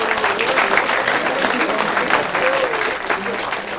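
Sustained audience applause at a regional comic-book authors' event, dense steady clapping throughout with a murmur of voices and speech mixed underneath.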